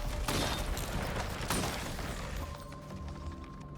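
Gunfire in the video game Risk of Rain 2, two sharp close shots a second apart followed by a lingering noisy tail, with a steady game hum underneath.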